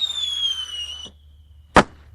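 Fireworks go off on the Fourth of July, a high whistling rise fading out, then a single sharp bang after a short pause.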